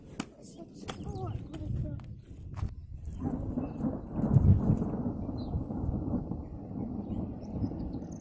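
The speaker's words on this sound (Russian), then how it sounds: "гром гремит." Thunder rolls in from an approaching thunderstorm outdoors at a country house, a deep, faint, drawn-out rumble that swells and lingers after a few sharp knocks and brief voices at the start.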